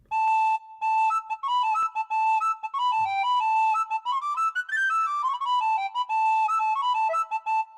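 A WARBL digital whistle plays a bright Celtic-style melody with finger vibrato, clear close tones in short phrases rising and falling.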